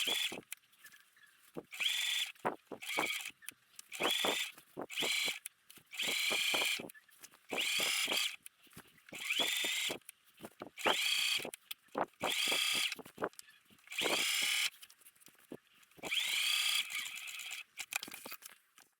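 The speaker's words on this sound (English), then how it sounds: "Top stitch the facing in place 1 inch from the finished edge." A sewing machine runs in repeated short bursts of whirring stitches while top stitching a dress facing, stopping and starting with small clicks and handling sounds in between.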